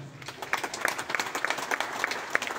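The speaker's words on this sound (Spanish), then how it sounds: "Brindemos un caluroso aplauso" Applause from a crowd at a village festival, San Juan Yatzona, rises into a steady patter of many hands clapping at a moderate distance, with regular sharper claps standing out.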